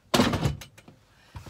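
A drawer in a van shuts with a sharp thunk and rattle, followed by a couple of smaller knocks as it settles, close and fairly loud.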